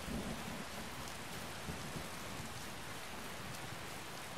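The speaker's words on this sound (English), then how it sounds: "as I stand out here in the rain" Steady rain pours down in Skyrim, a dense continuous hiss with low rumbling thunder rolling beneath it throughout, no voices.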